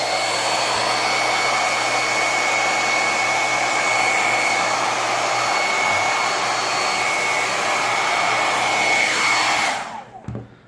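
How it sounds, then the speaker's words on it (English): A heat gun warming fabric wrap for a car interior roars with a steady, loud airflow whine, then shuts off near the end and winds down into quiet. "You need some kind of heat source to heat up all of the fabric."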